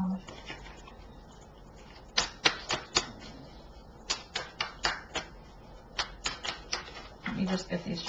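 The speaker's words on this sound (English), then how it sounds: "Let me just get these shuffled up again" Quick sharp riffling bursts of tarot cards being shuffled, coming in clusters of snaps, close by, with a low voice murmuring faintly underneath.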